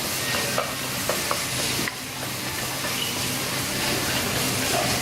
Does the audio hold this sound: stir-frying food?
yes